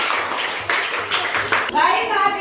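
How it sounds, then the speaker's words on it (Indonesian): Children at a school performance give a short burst of clapping for the first group, with a voice and others talking over and between the claps. "tepuk tangan buat kelompok 1"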